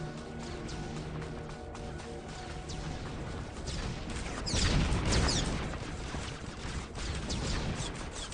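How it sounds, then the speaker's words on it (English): Gunfire during a firefight in Star Wars: The Old Republic, a busy mix of blaster shots and crashes over a low game rumble, swelling into a louder cluster midway before continuing in scattered bursts. "there's a lot of shooting going on here"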